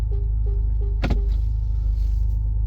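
A 2017 Porsche Macan with about 90,000 miles idles with a steady low engine hum, then gives a single sharp clunk as it is shifted into reverse, followed by a faint mechanical rattle.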